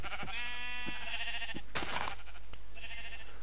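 Sheep in a survival video game bleat in several drawn-out, wavering calls, one overlapping another, with a short burst of noisy rustle in the middle and a steady low hum underneath.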